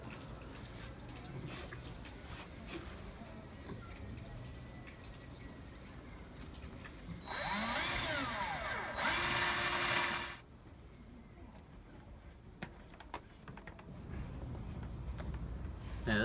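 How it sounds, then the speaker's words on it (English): A power drill whirs steadily for a few seconds in two bursts, boring holes through the ends of a wooden piece over a noisy background. "I'm just going to drill a couple of holes through the ends of the wood here"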